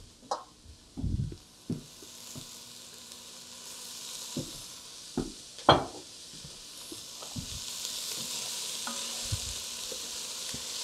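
Vegetables sweating in oil in a pan for stuffed peppers with Spanish rice, a soft low sizzle with a few sharp clinks and scrapes of a utensil early on, quiet and close.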